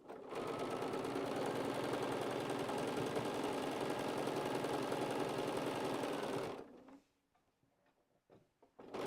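A sewing machine stitches rapidly and steadily at close range, a continuous mechanical whir with fast ticking that stops abruptly near the end and leaves a few faint knocks and handling sounds.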